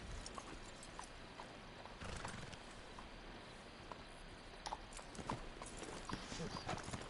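Horse hooves in Red Dead Redemption 2, a steady rhythmic clip-clop of a horse moving along at a walking pace, fairly faint and continuous, with occasional louder thumps.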